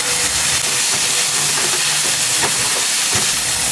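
Marinated chicken hits a hot pan already holding garlic and onion for adobong sitaw, giving a steady, loud, broadband sizzle and hiss that runs unbroken with a few faint clinks on top.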